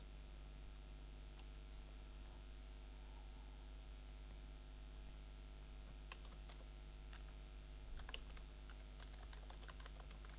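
Soft, faint keystrokes on a computer keyboard tap out text over a steady electrical hum, sparse at first and then quicker in a short flurry near the end, with no voices.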